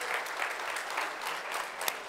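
Applause from a church congregation at a Spanish-language worship service, steady and dense clapping filling the space for a couple of seconds, with one sharper clap standing out near the end.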